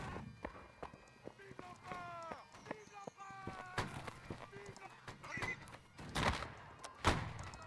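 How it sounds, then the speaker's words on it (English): Video game horse whinnies and neighs over galloping hoofbeats and thuds crossing a bridge, busy and layered like a game soundtrack, with voices talking over it. "there's a horse coming across the bridge"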